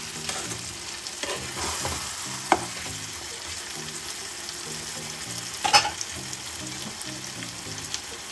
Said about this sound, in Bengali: ভালো করে মিক্স করে দিই।